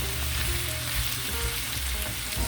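Vegetables and shredded leftover pork shoulder pernil sauté in hot oil, a loud, dense, unbroken sizzle heard close up for a few seconds.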